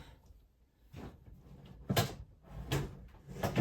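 Metal baking pans of sourdough French bread clatter and scrape as they are pulled out, with several separate knocks and rattles spaced a second or so apart, fairly close.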